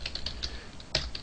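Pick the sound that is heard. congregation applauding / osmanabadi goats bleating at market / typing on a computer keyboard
typing on a computer keyboard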